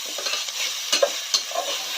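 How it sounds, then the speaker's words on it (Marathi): Mutton is stirred and sautéed in a pot with a spoon. Scraping stir strokes over a constant close sizzle give a few sharper knocks and clinks, and no one speaks. "तर आता आपण आणखी एकदा म्हणजे परतून घेत आहोत या मटणाला"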